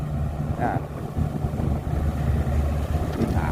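A Kubota U55 mini excavator digging and loading dump trucks in Roi Et, Thailand, its diesel engine a steady low rumbling drone throughout, close and continuous, with faint clanks and someone talking over it.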